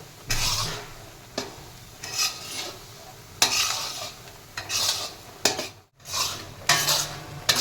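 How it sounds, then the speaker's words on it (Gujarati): Flour roasting in a pan for adadiya, a Gujarati sweet, stirred with a flat spatula that scrapes and rubs against the metal in repeated strokes with brief pauses, close and clear with no talking. "લોટ નાખીને પછી હલાવતા રહેવાનું છે."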